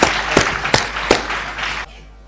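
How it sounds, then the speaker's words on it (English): Applause from a corporate seminar audience, a burst of clapping with a few sharper accents that runs for about two seconds, then cuts off abruptly to quiet room tone. "A round of applause for our wonderful people."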